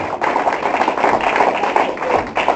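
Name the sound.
applause from congregation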